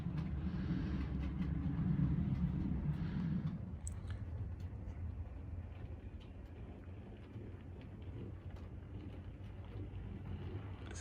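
Model train rolling along a model railway layout in the Yorkshire Dales style, picking up speed on a downhill gradient; a steady, continuous low rumble of wheels on track with a few small clicks, fairly close and alone.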